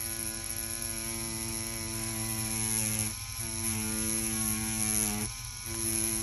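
A tattoo machine's steady electric buzz with a strong hum drones continuously, dipping briefly twice as the pitch wavers, close and fairly loud.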